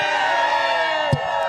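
A large rally crowd in Grand Rapids, Michigan chants loudly in unison, the mass of voices sustained and even, with a short sharp shout near the end.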